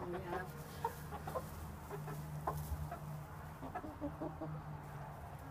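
Chickens cluck in a backyard coop, scattered soft clucks and calls in an irregular rhythm, moderately close over a low steady hum, with no clear talk.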